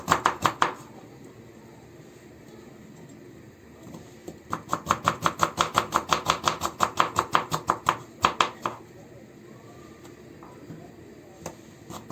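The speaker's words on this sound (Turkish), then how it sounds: "Ardından da maydanoz sarımı doğruyorum." A knife chopping a bunch of parsley on a cutting board, quick rhythmic taps in a short burst, then a longer steady run, close up with quiet gaps between and no talking.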